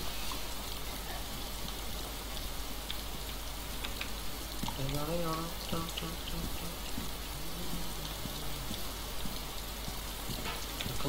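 Steady rain hisses down in the survival video game DayZ, a dense, even patter heard from inside a tent, with faint voices talking briefly partway through.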